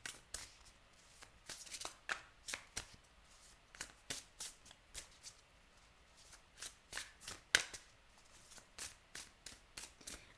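Oracle cards are shuffled by hand in quick, soft riffling bursts, a steady run of light papery flicks, close and quiet with no talking.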